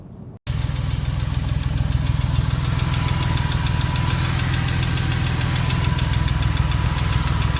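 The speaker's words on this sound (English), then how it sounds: "you may be able to hear a slight ticking from the engine" A car engine with bore score idles loudly and close, its steady rapid ticking and knocking running continuously after a brief silent start.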